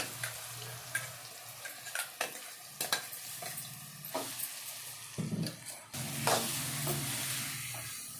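Raw mango pieces with turmeric powder fry in a pan for mango pickle chutney, giving a steady close sizzle and hiss. Spatula scrapes and stirs recur every second or so, then a louder burst of sizzling comes near the end.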